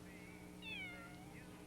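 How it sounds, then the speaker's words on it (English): A pet cat named Bootsy gives a single short meow, faint and close, over a low steady background hum with no talking. "Oh, such a pretty kitty."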